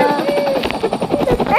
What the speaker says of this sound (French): je vais prendre un hélicoptère